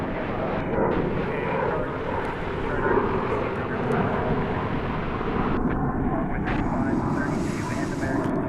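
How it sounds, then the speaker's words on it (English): An Airbus A321 jet takes off from DFW Airport, its engine roar a steady, broad rumble that holds loud and continuous throughout, with faint voices mixed underneath. "You just saw Flight 2366 off to San Diego, California, an Airbus A321"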